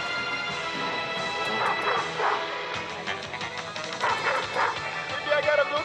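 A dog in a video game barks and yips repeatedly at close range, with whimpering between barks, over a steady electronic background hum.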